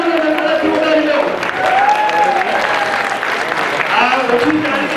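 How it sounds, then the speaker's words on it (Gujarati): A crowd claps continuously at a Mahotsav 2025 community festival event, a broad steady wash of applause with a faint tonal hum and murmuring voices beneath it. "તેમના બધાને તાળીઓના ગગડાથી ઉડાવી લો."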